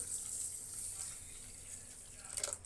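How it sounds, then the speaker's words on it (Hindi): Water poured into a bowl of samak rice to soak it, a soft faint trickle heard alone in a quiet kitchen. "अब इसमें पानी डालकर इसे भिगोने के लिए रख देना है"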